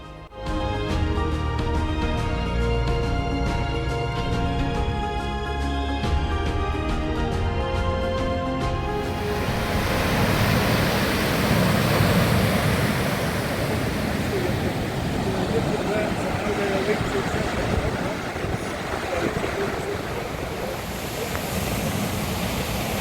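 A vehicle drives through a tunnel beneath a waterfall below a dam wall in Lesotho. Music plays first, then gives way to a loud, steady roar of rushing water and wind that continues to the end.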